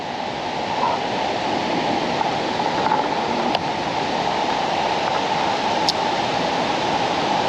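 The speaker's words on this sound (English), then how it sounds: "And you can probably hear the waterfall." Waterfall near a trail from White Rock to Little Falls, a steady broadband rush of falling water holding constant and fairly loud throughout, with no voices over it.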